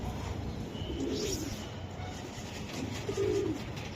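Soft, close cooing from a racing pigeon kept warm under a heater in winter, two low throaty coos about two seconds apart over quiet room hiss.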